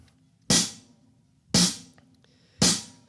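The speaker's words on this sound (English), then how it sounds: "So let's just keep steady time on the hi-hat." Three evenly spaced hi-hat strikes on a drum kit, each a bright crisp chick with a short decaying shimmer, about one second apart, played alone at steady tempo over a faint low room hum.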